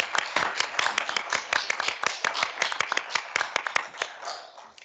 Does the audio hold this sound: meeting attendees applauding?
yes